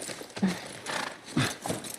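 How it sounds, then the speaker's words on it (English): A horse in The Last of Us Part I clops nearby, its hooves striking in a few distinct, close thuds over two seconds, with soft rustling between the steps. "Are you interested in the horse on the screen?"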